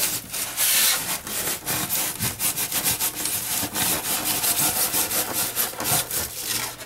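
A handsaw cuts steadily through wood, rhythmic rasping back-and-forth strokes, close and continuous with no talking.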